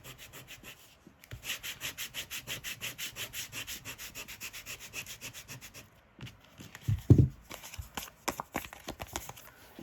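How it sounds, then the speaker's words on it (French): Hand sanding on a craft piece made from a deck of cards gives a series of quick, even rubbing strokes, then stops, followed by a few louder scuffs and handling noises close by. "Voilà, je la ponce. Vous voyez, ça se ponce très très bien."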